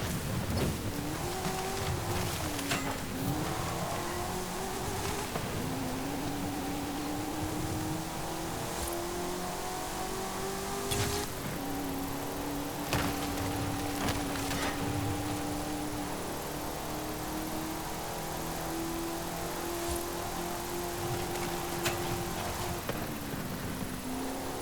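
A car engine from the Fast X car pack in Forza Horizon 5 revs and drones continuously, its pitch rising and falling through gear changes, with tire noise and occasional sharp bursts and no talk.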